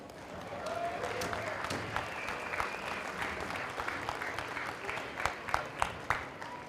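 Steady crowd applause at a Kivgiq festival gathering for the Utqiaġvigmiut dance group, dense and sustained throughout, with a few sharper individual claps standing out near the end.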